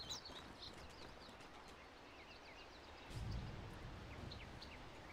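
Birds in a Dota 2 match: faint, distant wing flutters mixed with soft chirps over a low background hum.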